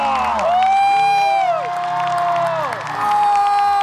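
A live stage-show audience cheers, whoops and claps continuously beneath loud sweeping musical tones, a noisy crowd response that rises and dips over several seconds.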